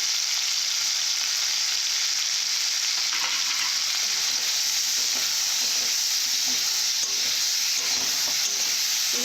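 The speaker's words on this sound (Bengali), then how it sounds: "মশলাটাকে ভালো করে কষে নেব" Spice masala with turmeric and chili powder, sautéed for a mixed vegetable niramish curry, sizzles steadily up close while a spatula stirs and scrapes the pan in an uneven rhythm, with no voices.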